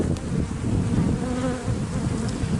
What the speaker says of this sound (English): Got a few bees bouncing off the camera. I don't know if you can hear them.